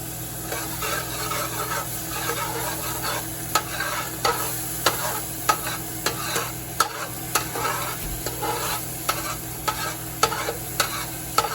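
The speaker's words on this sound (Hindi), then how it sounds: "ऑयल लिया है, उसमें ये गार्लिक डाल दूंगी।" Garlic sizzles in about two tablespoons of oil in a pan for prawn fried rice, a steady close frying hiss broken by repeated scraping stirs of a spatula at an uneven rhythm, with no talking.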